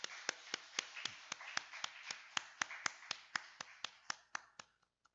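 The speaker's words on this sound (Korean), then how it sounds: "우리 박수로 축복하겠습니다." A church congregation clapping together in a steady, evenly spaced rhythm, about twenty crisp claps in a reverberant room that stop abruptly after a last stray clap, with no voices.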